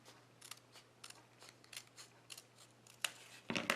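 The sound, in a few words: scissors cutting a paper label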